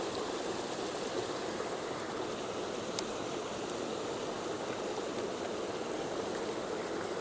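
A small mountain stream off the Blue Ridge Parkway runs steadily, a continuous soft rushing and babbling of water heard up close with no voices.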